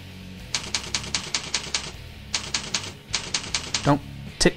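Fingers tap out a username and password on a computer keyboard in brisk, close runs of clicking keystrokes, broken by short pauses.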